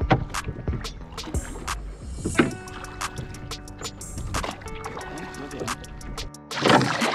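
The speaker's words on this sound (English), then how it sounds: "Obviously, I've got Joe rowing the boat." Wooden oars dip and splash as a rowboat moves across Lake Bled, irregular watery knocks and gurgles up close over outdoor ambience, with people talking at points.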